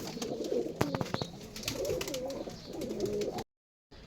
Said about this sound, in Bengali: এই দুইটাও বাজির কবুতর